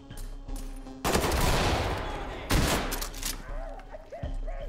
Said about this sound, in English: I'm throwing a flashbang in that room.